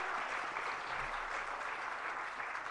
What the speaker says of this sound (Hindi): और जरा एक बार पूरी जिनवाणी चैनल की टीम के लिए जोरदार तालियां।